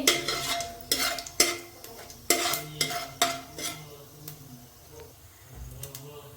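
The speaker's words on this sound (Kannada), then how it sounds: "ಮಸಾಲ ಚೆನ್ನಾಗಿ ಫ್ರೈ ಆಗಲಿ" Masala with whole spices frying in a pan as a spoon stirs it, giving repeated sharp scraping strokes and clinks over a light sizzle, close by, with the stirring thinning out toward the end.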